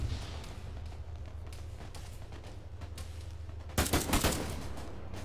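Gunfire in the military shooter ArmA 3, a sudden loud cluster of rapid shots bursting out over a constant low rumble of background noise.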